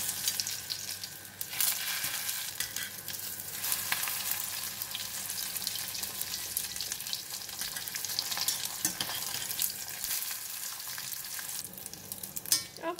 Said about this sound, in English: if the oil is hot, I'm going to put in this Fu Chok and fry them